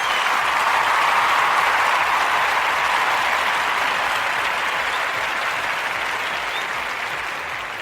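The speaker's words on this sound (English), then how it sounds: "Let's give them a round of applause for them" Sustained applause from a podcast audience cheering a volunteer service group, steady and dense throughout, slowly tapering toward the end with no talk over it.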